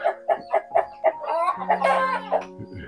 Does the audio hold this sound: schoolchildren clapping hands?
no